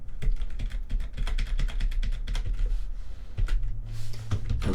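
Rapid, irregular clicking of computer keyboard keys, close and busy, with a brief low hum near the end.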